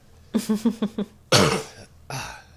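A burst of several sharp coughs in quick succession, then a heavier rasping cough and a final shorter one, close and loud.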